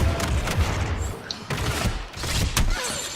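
Gunfire in the video game Star Wars Battlefront II, a busy stretch of repeated shots and impacts with a low rumbling bed, fairly loud throughout.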